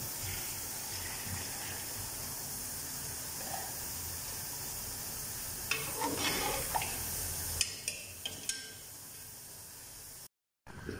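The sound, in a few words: water boiling and stirring in pot for beef pulao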